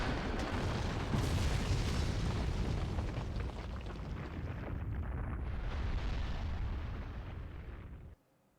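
A huge explosion in the video game Naruto Storm 2, a loud sustained roaring blast that fills the scene for about eight seconds before cutting off abruptly.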